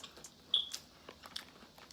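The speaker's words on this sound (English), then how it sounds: "It's very crunchy, which I like." Crunchy bites into a Popeyes fried chicken sandwich, a couple of brief crisp crackles close to the mic, followed by quiet chewing with no talking.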